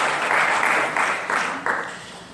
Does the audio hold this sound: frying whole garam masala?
no